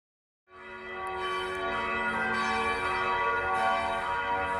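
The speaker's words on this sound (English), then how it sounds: "It's Sunday morning and the bells are ringing at Holmenkollen Chapel" Church bells ring on a Sunday morning at Holmenkollen Chapel in Oslo, starting after a brief silence and then sounding as a sustained, layered peal with rich overlapping tones, steady and fairly clear, with no voices.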